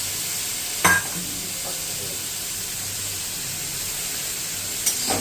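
Carrots and beans fry in a pan for vermicelli upma, giving a steady soft sizzle with two brief scraping stir sounds, close by and fairly quiet throughout.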